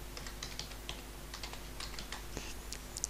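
Typing on a computer keyboard while entering text in CorelDraw: quiet, irregular key clicks in short bursts, close up, with no talking.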